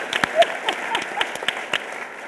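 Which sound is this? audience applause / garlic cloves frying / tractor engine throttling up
audience applause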